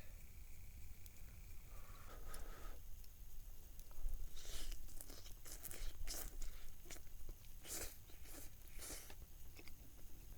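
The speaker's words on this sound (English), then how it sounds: "there's just no way of avoiding slurp and chew noises when you're eating ramen" Someone eats ramen while tent camping on a mountainside, producing quiet, close slurps, bites and chewing in irregular bursts against a soft outdoor background.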